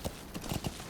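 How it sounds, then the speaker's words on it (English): Horse hooves clip-clop in Metal Gear Solid 5: The Phantom Pain, set in Afghanistan: a few quick, muffled hoof hits under faint background noise. "oh, it's just a horse"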